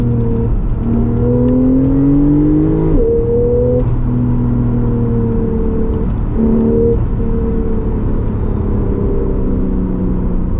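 A turbocharged Porsche 911 Targa 4S (991.2) engine revs hard and climbs through gears, a loud continuous whirring roar rising in pitch, with brief dips at each shift.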